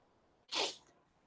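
A single sharp sneeze bursts out close by, brief and forceful, with quiet room tone before and after.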